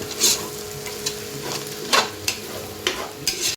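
Green chillies fry in hot oil while being stirred for a prawn biryani, a soft sizzle under intermittent scraping and clinking of a spoon against the pan, heard close with no voices.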